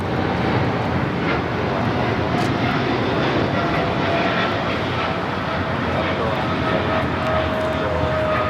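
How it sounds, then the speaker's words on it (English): A Korean Air Cargo Boeing 777 freighter rolls for takeoff at LAX, a steady broadband jet engine roar holding at constant loudness for several seconds, with a faint voice underneath. "This is Korean Air Cargo 8208 taking off to Seoul on the 777 freighter"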